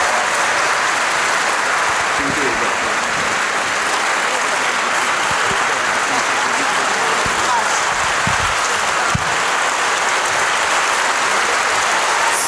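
A festival crowd at Pol'and'Rock 2021 bursts into loud, continuous applause, a dense wash of clapping with some faint voices mixed in, holding steady throughout.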